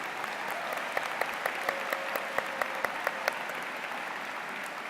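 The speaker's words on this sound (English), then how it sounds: "Please give yourself another huge round of applause." Graduates and guests applauding at a business school commencement, a broad, steady wash of clapping with a few sharp, distinct claps standing out near the microphone.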